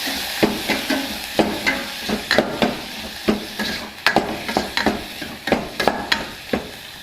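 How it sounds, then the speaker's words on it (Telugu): Corn samosa filling stirred in a frying pan, a spoon scraping and knocking in a steady run of distinct strokes over a soft sizzle, close and clear with no talking. "ఇప్పుడు ఒకసారి మొత్తాన్ని బాగా కలుపుకుందాం"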